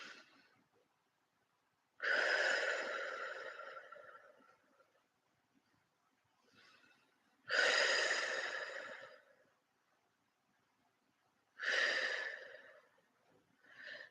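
Slow deep breathing during a calm breathing exercise, three long audible exhales spaced several seconds apart with softer inhales between them, close and quiet, with no talking.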